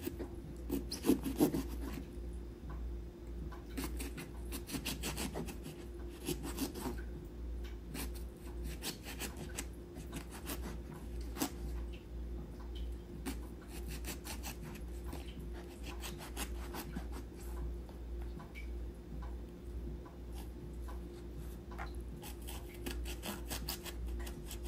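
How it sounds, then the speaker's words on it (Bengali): A knife slicing crosswise through a vegetable on a cutting board in a home kitchen, giving repeated soft scraping, rasping strokes at a steady pace, close and fairly quiet, with no talking. "তারপরে দেখুন এইটার এখন এইভাবে কাটবো"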